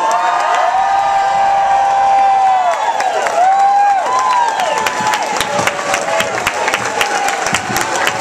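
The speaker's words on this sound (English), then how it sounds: "give her some applause" Loud crowd applause and cheering at a political welcome reception for the DNC chairwoman, dense clapping with whoops and sustained shouting, close and continuous.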